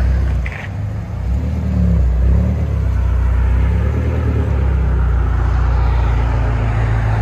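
A BMW M6 with a 4.4L twin-turbo V8 making 816 hp and a muffler delete rumbles loud and close, its deep throbbing exhaust growing heavier after the first second and holding a strong low drone.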